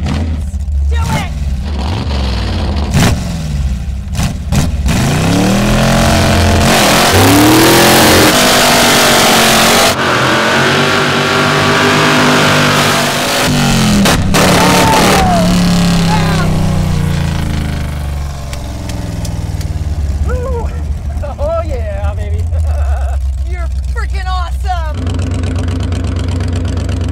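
A Hemi-powered 1934 Ford Coupe hot rod does a long burnout, the engine roaring loud and sustained with rising revs and tire squeal near the end, with people talking over it.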